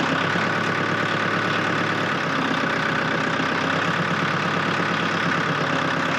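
A Ford 1920 tractor engine runs at a steady fast idle around 1,800 RPM, producing a loud, continuous mechanical drone with a fine rhythmic chug that holds level throughout, no voices.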